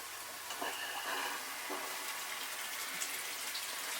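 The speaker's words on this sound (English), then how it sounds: "So we literally fill up the shower pan itself, and at this stage we open the valve" Water runs steadily through an open valve, filling the shower pan of a recirculating van shower with a soft, continuous hiss and gurgle, faint and alone.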